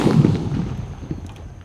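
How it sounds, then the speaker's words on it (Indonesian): A Pearl Thunder Jumbo firecracker buried in the ground goes off with a single dull, muffled boom right at the start, followed by a fading rumble and faint scattered debris sounds. "Dan di sini ada Pearl Thunder Jumbo guys. Kita nyalakan. Kita masukkan ke dalam."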